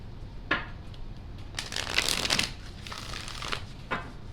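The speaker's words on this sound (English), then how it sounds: "They're telling me to shuffle once and cut once." Tarot cards being shuffled and cut by hand, a few soft riffling and sliding bursts with short taps between, close and quiet with no talk.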